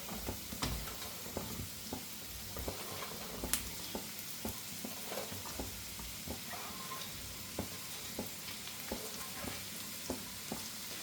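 Plantain pieces fry in a pan over high flame while okra is stir-fried with peanuts. A steady, fairly quiet sizzle runs throughout, broken by regular light scraping ticks from stirring.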